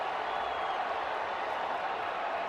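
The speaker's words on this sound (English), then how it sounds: "Sooners trying to fire up their crowd." Oklahoma Sooners home stadium crowd during a fourth-quarter football game against Oklahoma State, a steady, dense roar of cheering spectators filling the whole stretch at a distance with no distinct voices.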